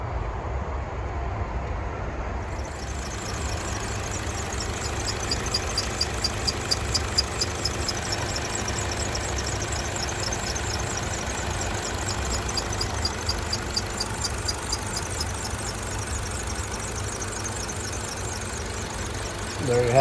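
A Buick Encore Ecotec turbo engine idles steadily after a turbo replacement, a close, even rumble carrying a faint high turbo whistle that fades in and out, with no one speaking.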